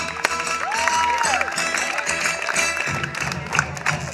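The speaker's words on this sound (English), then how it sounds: "give them a big round of applause" At a wedding, guests applaud as the couple cuts the cake, a continuous crowd clapping that blends with loud music playing at the same time.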